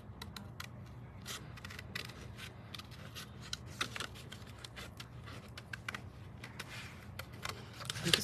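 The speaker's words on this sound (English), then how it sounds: "I'm just going to kind of mimic that with these fantastic scissors." Repeated crisp snips of scissors cutting paper, irregularly paced, close by and moderately loud against a low background hum.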